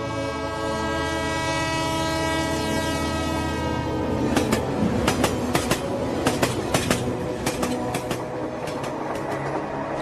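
A train runs steadily with a low rumble and rhythmic clatter, while a horn sounds repeatedly in short bursts over the second half, fairly close and loud, with no voices.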